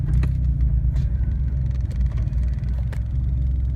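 A BMW E30 325iX turbo wagon with a clutch problem idles with a steady low engine rumble close by, and a few light clicks and knocks sound over the drone.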